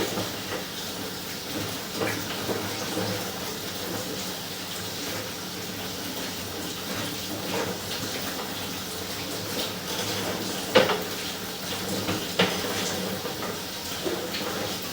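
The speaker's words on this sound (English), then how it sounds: "So we are obviously running some water here" Water rushing steadily through an old residential sewer line during a camera inspection, a continuous hollow wash with occasional knocks and surges.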